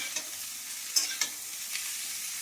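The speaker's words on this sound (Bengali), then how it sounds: "আর এদিকে পেঁয়াজ ভাজা হচ্ছে" Onion sizzles quietly in a frying pan, a soft, continuous hiss broken by a few light clicks and scrapes of stirring.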